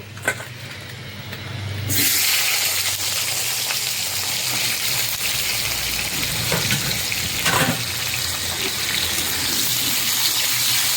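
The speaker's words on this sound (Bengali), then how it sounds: "মাছগুলো ভেজে তুলে নিয়েছি, এবার আলুটাকে ভেজে নেব।" Potatoes dropped into hot oil in a pan start a loud, steady hiss of frying that stays strong and even for several seconds, after a quieter lead-in with a few clinks.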